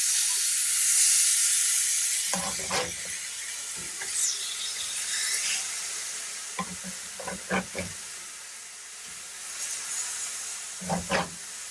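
Burgers sizzle steadily in a pan over medium-low heat, a continuous frying hiss broken by several brief scraping and stirring clatters near the pan.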